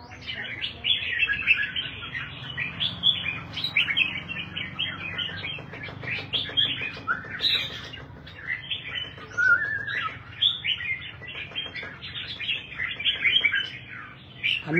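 A songbird sings continuously in quick, varied chirps and trills, bright and close, with a low background hum underneath.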